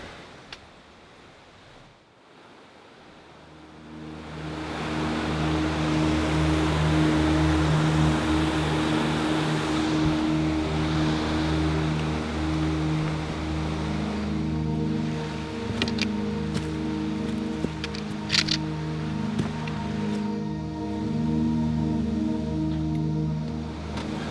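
Broadband rushing water from a river beside a hiking trail runs loud and steady after the first few seconds, with a low engine-like hum layered underneath and a few faint clicks near the end.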